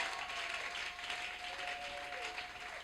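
A church congregation gives sustained applause at a faith celebration, a dense, steady wash of clapping that stays loud and even throughout.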